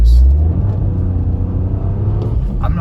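A 2023 Toyota GR Corolla pulls away hard from a standstill on a snowy road, its engine rumbling loudly inside the cabin and rising in pitch as it accelerates, with faint thumps and rattles over the top.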